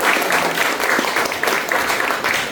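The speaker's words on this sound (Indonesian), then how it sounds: "Tepuk tangan." Steady, dense applause from a seated audience at a parenting seminar fills the whole stretch, loud and continuous with faint rhythmic peaks of clapping.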